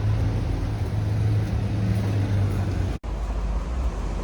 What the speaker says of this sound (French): McLaren 720S.